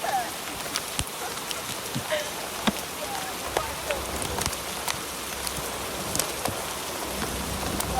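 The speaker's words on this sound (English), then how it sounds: "So basically, we're washing our cars in the rain." Rain falls steadily outdoors while cars are washed, a dense, even hiss of drops with scattered sharper taps and splashes close by, and no talking.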